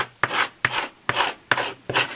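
Repeated scraping strokes clear old sticky adhesive gunk off a Brother ScanNCut cutting mat, five rough, raspy passes in a steady rhythm, close and fairly loud, with short gaps between strokes.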